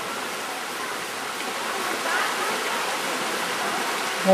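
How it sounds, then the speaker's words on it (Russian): Water runs steadily out of a stream at Khao Na Chu Chi in Thailand, a constant close rushing hiss with no breaks for the whole stretch. "Прекрасная водичка вообще. Сюда водичка вытекает."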